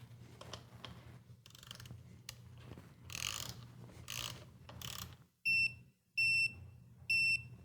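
Close ratcheting clicks from a torque wrench tightening the bottom bolts of a mountain bike fork, followed by three short, high beeping tones.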